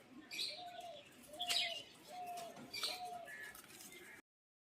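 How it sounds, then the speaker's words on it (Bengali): Pigeons in a loft cooing in several low, rhythmic calls, with a few sharper chirps and wing flutters over faint background noise, ending abruptly. "এই যে দাদার পায়রা, খুব সুন্দরভাবে পায়রাগুলো একজুট হয়ে চলছে"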